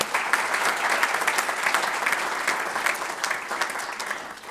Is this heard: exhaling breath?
no